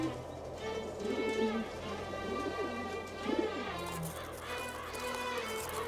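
Pigeons or doves coo repeatedly in an arid mountain setting, soft rolling calls overlapping at a moderate distance against a faint, steady background hiss.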